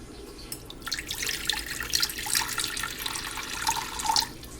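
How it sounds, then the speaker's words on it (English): Water is poured into a pan holding a bottle of rose petals in coconut, almond and olive oil, a steady splashing, trickling stream close by for about four seconds with no talk. "Now need to add some water in this pan."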